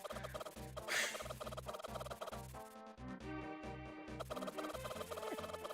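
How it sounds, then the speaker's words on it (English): Chickens in a game make faint gobbling, clucking calls over a rhythmic music track with a steady beat. "these chickens are not nice"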